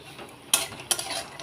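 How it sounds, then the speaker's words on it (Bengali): Curry leaves sputter in hot oil while puffed rice is fried, making short, sharp crackling bursts up close, with a few quick pops and stirring scrapes. "কি সুন্দর করে ফুটছে দেখো তো, কি মিষ্টি, এত ভালো লাগতেছে। আর দেবে না, ফ্যাস ফ্যাস ফুটতেছে।"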